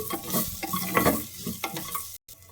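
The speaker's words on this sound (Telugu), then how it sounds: "ఆయిల్లోనే కాస్త ఫ్రై చేసుకుంటే సరిపోయింది." Almonds frying in oil in a pan for methi pulao, a steady crackling sizzle with stirring scrapes and clinks throughout, close and fairly loud, with a brief drop near the end.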